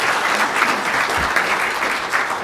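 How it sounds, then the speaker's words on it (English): An audience applauds at a high school basketball state championship coaches' introduction, a steady, fairly loud wash of clapping in a large hall. "A round of applause for Danielle Sullivan."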